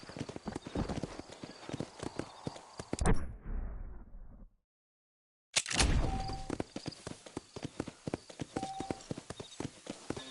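Horse hooves clip-clop steadily at a brisk walking rhythm on a dirt trail in Red Dead Redemption, with a short silent break midway before the steady hoofbeats resume, loud and close.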